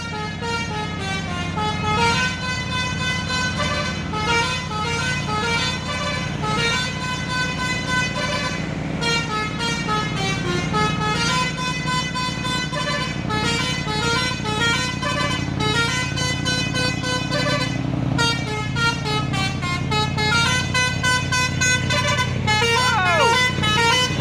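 A truck's telolet musical horn plays continuous melodic toots for a long stretch on an Indonesian road, loud and close, with people talking underneath.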